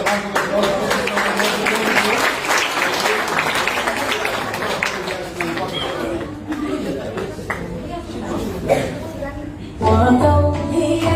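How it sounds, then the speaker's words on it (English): An audience applauds in a dense, loud wash of clapping that thins toward the end, with chatter and a few chuckles mixed in before a voice and music come in. "another round of applause"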